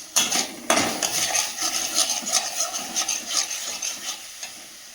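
Spices being stirred in a hot kadai or wok: a continuous close scraping and clattering of a utensil against the metal pan with a light frying sizzle underneath, no voices.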